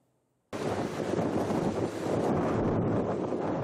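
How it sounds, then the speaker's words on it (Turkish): Strong lodos wind gusting across the Marmara region, bursting in loud and steady as broadband roaring buffeting against the microphone after a brief quiet start, with no voices. "Marmara bölgesini lodos vurdu."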